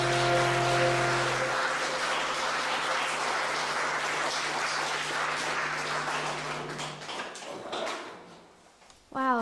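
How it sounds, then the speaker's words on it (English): Audience applause at a gallery arts event, a broad steady wash of clapping lasting most of the moment, starting over a fading tonal hum and thinning out near the end. "Please put your hands together in very, very generous applause"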